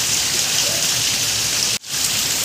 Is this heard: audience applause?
no